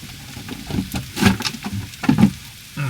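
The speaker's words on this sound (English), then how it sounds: "now I'm going to add the lovely beef and pork" Beef and pork frying in a hot pan, a close crackling sizzle with stirring scrapes and bursts of spitting fat.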